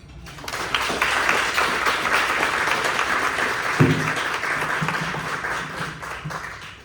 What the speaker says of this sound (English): please give a warm and welcoming round of applause to Randy Cohen.